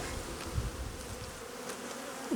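Honey bees buzz inside an alpine beehive during queen introduction, a dense close hum with a few individual bees droning past, steady and moderately quiet.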